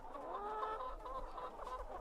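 Farm chickens clucking steadily, several hens murmuring and chattering together at moderate distance, low and continuous throughout with no voices over them.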